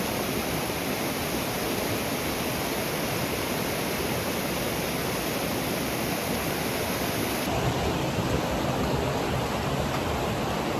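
River water rushes steadily beside the road to a waterfall near Sai Ghat in Rishikesh, a loud, dense, unbroken roar with no voices.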